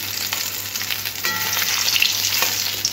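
Katla fish and potato slices fry together in hot oil, a steady close crackling sizzle with brief stirring scrapes throughout, no voices.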